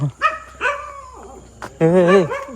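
A dog barking in a village, several close, loud barks in an uneven rhythm, ending in a longer, whining, drawn-out bark.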